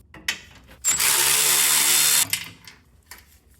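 A power tool such as an impact driver or ratchet buzzes loudly in one sustained burst of about a second and a half, loosening the brake line anchor bolt on a first-generation Toyota Tundra or Sequoia, with tool clicks and clanks before and after.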